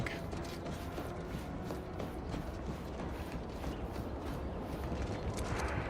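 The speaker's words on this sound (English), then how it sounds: "These guys' footsteps sound really strange to me." Enemy footsteps in the Outer Worlds 2 video game, a faint, rapid patter of steps running continuously under a low game ambience, no speech.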